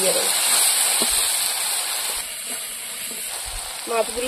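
Spiced oil for a Bengali kaan fish curry sizzles and hisses steadily in a pan, a loud continuous fry with a faint voice near the end.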